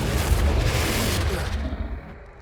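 A Confringo fire spell blast in the video game Hogwarts Legacy, a loud deep boom with a rumbling explosive burst that rolls on for about a second and a half before thinning out.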